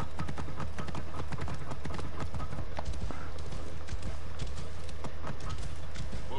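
Horse hooves clip-clop steadily in Assassin's Creed Origins, a close, continuous run of hoofbeats over a low game-music drone, with a brief whinny.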